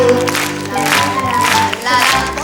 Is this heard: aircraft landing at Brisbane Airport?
no